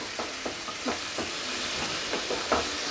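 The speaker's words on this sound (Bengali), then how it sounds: "এবার এটাকে বেশ খানিকক্ষণ কষাতে হবে।" Chicken keema sautéed and stirred in a pan, with a steady soft sizzle under about ten rhythmic scraping strokes of a spoon, close and moderately quiet.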